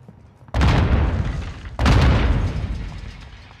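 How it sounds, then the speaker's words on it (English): Two loud, close grenade blasts in the Call of Duty Modern Warfare II video game, each a sharp boom that decays into a rumbling tail, about a second and a quarter apart. "They're throwing grenades."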